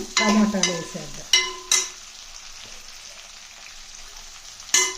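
Chopped tomatoes added to a mango and mixed-vegetable curry frying in a pot: a burst of clattering and ringing metallic knocks, then a steady hiss, with a couple of sharp clanks.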